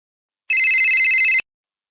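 A single short burst of electronic telephone ringback tone on an outgoing call, lasting about a second, loud and close, with no talk.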